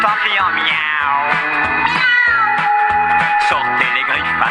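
Children's voices imitate a cat's meow in a French children's song, with repeated sung miaou calls over a steady bouncy musical backing, loud and close.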